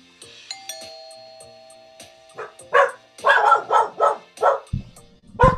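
A VR doorbell project sounds several bright chimes, then dogs answer with a run of loud, close barks that keep going to the end.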